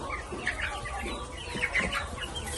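Young Phu Phan black chickens, about two months old, cluck and peep softly in a series of short chirps close by, with no talk.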